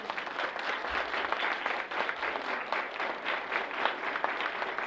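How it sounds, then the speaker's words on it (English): A live audience claps in sustained applause at a gathering of educators, a dense, steady patter of many hands that holds at an even level throughout with no voices over it. "So give them a round of applause again"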